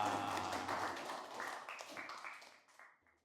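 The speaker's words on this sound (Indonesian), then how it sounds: "Oke, tepuk tangan buat Malika." Children in a classroom applaud a classmate with a brief round of clapping that starts fairly full and quickly thins and fades out, quiet overall, with a little voice mixed in.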